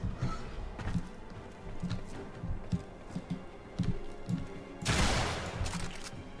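A video game gun empties a full magazine in rapid, fairly faint shots, with a louder, denser burst of fire near the end.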